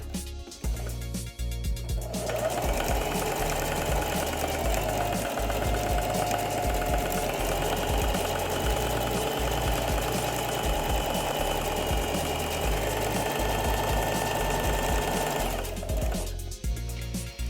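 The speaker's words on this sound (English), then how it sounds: "Before switching directions, always make sure the needle is down and give the machine pause so it can switch directions." A sewing machine stitches a seam on a cat hat, a loud, close, continuous whirring drone that starts after a brief pause, runs for about fourteen seconds without letup, then stops, with no one speaking.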